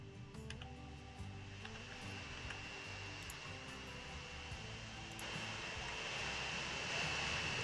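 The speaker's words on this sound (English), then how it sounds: "It's a nice shot of the plane coming in." A passenger plane in the Transport Fever 2 video game, a steady whining engine drone with a thin high tone, growing slightly louder toward the end as it comes in, alone without talk.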